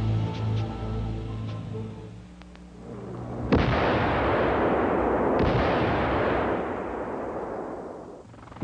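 C4 charge packed with petrol detonating at a vehicle depot: one sudden heavy blast followed by a long roaring, crackling rumble that slowly fades, after a lower steady background beforehand.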